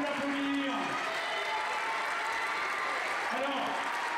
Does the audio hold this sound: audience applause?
yes